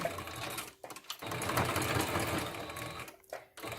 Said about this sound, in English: Now I'm going to sew these sides, only these 2 sides,